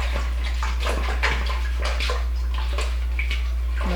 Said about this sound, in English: Let me rinse my tomatoes.